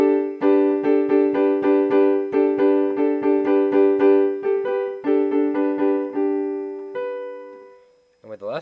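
Piano right-hand part of a song: bright, evenly repeated chord stabs in a quick steady pulse, clear and close, ending on a held chord before a brief noise.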